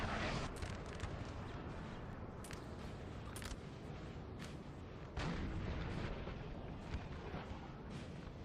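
Napoleon Total War artillery fire rolls on as a dense, continuous barrage of booms with sharper cannon reports poking through a loud battlefield roar.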